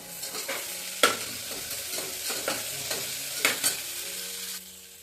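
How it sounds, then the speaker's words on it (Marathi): Onion sautéing in a pan until soft, a steady sizzle broken by repeated scrapes and stirs of a spoon, several louder strokes standing out, close and moderately loud with no talking. "सगळं व्यवस्थित छान भाजून परतून घ्यायचं कांदा सॉफ्ट व्हायचं पर्यंत भाजून घ्यायचं"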